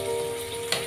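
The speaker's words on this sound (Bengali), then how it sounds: "আমি এইভাবে ভালোভাবে কষিয়ে নিচ্ছি" Beef liver sautéing in a pan as kolija bhuna, with a steady close sizzle and a single short scrape of stirring near the end; no voices.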